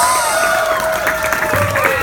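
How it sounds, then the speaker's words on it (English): A convention audience applauds the Power Rangers Megaforce cast at a panel, loud continuous clapping and cheering with voices mixed in throughout. "Everybody, please get the applause going for the cast of Power"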